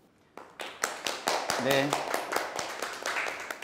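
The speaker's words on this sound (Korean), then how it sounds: "큰 박수로 맞이해 주시기 바랍니다." A seated audience at an education law policy forum claps to welcome a speaker, a dense run of sharp hand claps building and holding steady, with a voice briefly speaking over it.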